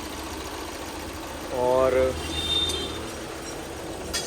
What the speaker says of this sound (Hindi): तो चलो भाई गाड़ी कर देते हैं स्टार्ट